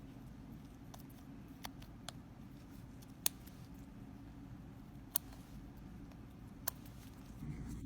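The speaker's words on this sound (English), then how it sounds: "So now I'm going to cut into the cervix." Scissors snipping into the muscular cervix of a dissected uterus, giving a handful of sharp, isolated clicks spread across a quiet background.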